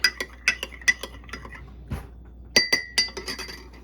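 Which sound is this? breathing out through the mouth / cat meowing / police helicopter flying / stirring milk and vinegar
stirring milk and vinegar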